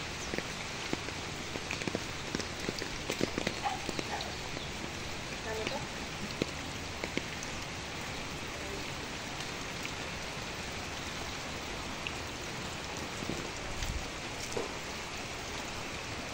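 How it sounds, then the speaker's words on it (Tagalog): Steady rain falls hard and continuously, a dense hiss with scattered drops pattering on a surface. "Ay, malakas ng ulan."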